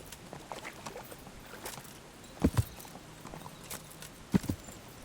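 Horse hooves clip-clop in Kingdom Come: Deliverance, a quiet run of soft, steady hoof taps broken by two louder clusters of thuds, with no voices.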